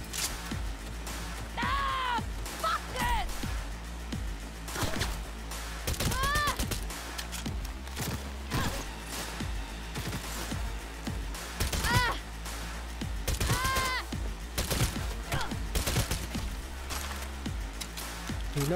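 Automatic turret gunfire in Cyberpunk 2077 rattles out in repeated bursts of rapid shots over a din of game effects and combat noise, steady and loud throughout.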